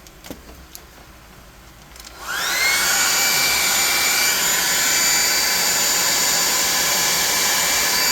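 A blow dryer used while crafting a terrain model switches on after a quiet start with a few light clicks, then roars as a loud, steady, high-pitched whoosh that runs unbroken to the end.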